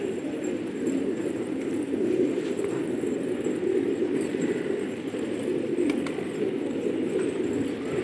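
Gola pigeons cooing in a loft, a low continuous murmur of overlapping soft coos at moderate distance with faint scattered clicks and rustles, no talking.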